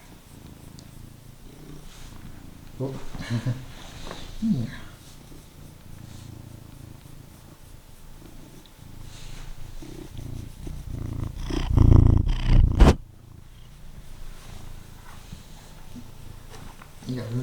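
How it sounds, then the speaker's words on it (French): A cat that strays into the house purrs steadily at close range, a soft continuous rumble with a louder, fuller stretch partway through, while a person speaks briefly nearby. "On a un chat qui est pas à nous, qui vient squatter chez nous."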